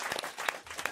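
A studio audience applauds on a French TV talk show, a short burst of clapping that sounds fairly faint and distant.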